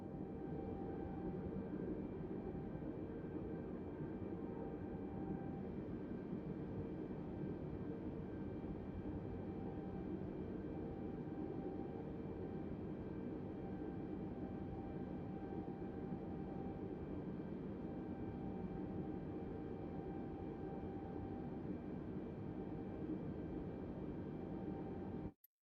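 Airliner jet engines hold a steady, broad roar for a long stretch as the thrust levers advance, with a faint constant hum and no clear rise in loudness.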